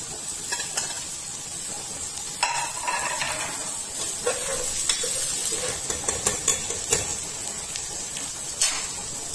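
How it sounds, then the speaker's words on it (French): Sliced red and green bell peppers sauté in a hot pan with a steady sizzle, broken by a spoon scraping and knocking against the metal several times. The sound is close and moderately loud, with no speech. "je peux verser le reste, le poivron rouge et le vert. Je vais les faire revenir un tout petit peu."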